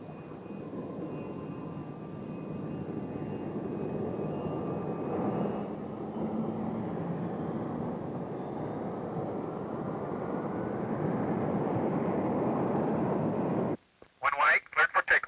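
North American F-107A jet taxiing into position behind an F-100 at Edwards in 1956: a steady, broad engine roar and rushing noise holding for most of the time, cutting off abruptly near the end.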